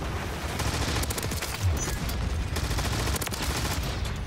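AMR9 gunfire in MW3 multiplayer: dense, rapid bursts of shots crackle continuously at steady loudness for several seconds, with no talking.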